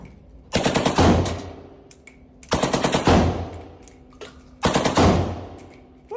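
Three bursts of rapid semi-automatic gunfire at an outdoor range in Miami, each a quick string of loud sharp cracks with a ringing tail, separated by short quiet gaps.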